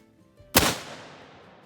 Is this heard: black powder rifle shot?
yes